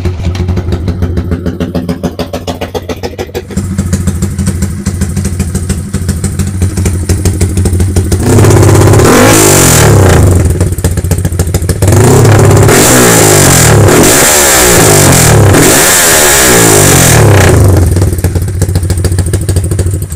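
A tuned Yamaha Y15 motorcycle engine with a 70mm upgrade idles with a throaty rumble, then revs hard several times in quick, rising bursts, loud and close.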